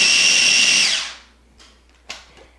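A small food processor grinding orange pieces for vanilla orange marmalade, a loud steady motor whir lasting about a second before cutting off, followed by a few faint clunks and a brief knock.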